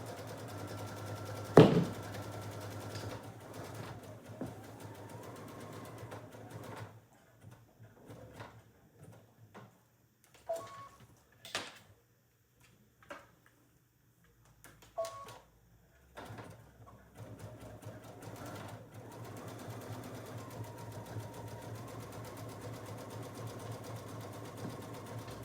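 A sewing machine zigzag-stitches the raw edge of a quilted oven mitt. Its steady whirring runs at the start and again near the end, with quieter clicks and handling sounds between.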